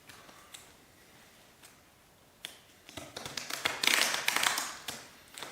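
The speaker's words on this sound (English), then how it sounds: "Shuffle it 9 times." A fresh deck of playing cards being shuffled, heard as a run of quick light taps and riffling flutters that swell into a louder, denser burst near the end, close up with no talk.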